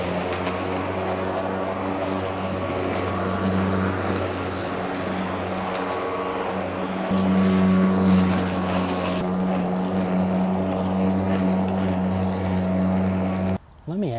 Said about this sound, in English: Now I have to mow my driveway.